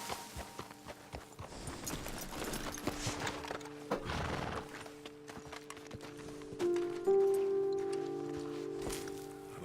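Horses in the Western game Red Dead Redemption 2 stand and shift on a ledge, with hooves clopping, a snort and a whinny amid rustling, followed by steady tonal music.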